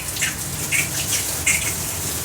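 Water from a rain shower fixture fitted with a water-powered Bluetooth shower speaker pours in a steady, close hiss and spray, with small splashing accents throughout.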